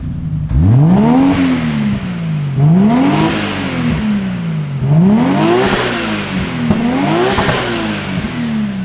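A Nissan R32 GT-R engine revs repeatedly, each high-pitched rise falling back to idle, loud and close with no voices.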